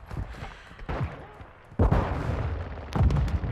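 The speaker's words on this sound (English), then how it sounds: "Tossing sticky grenade!" A sticky grenade in Call of Duty: Modern Warfare II bursting with a sudden loud boom partway through, after muffled gunfire, then a second sharp blast near the end.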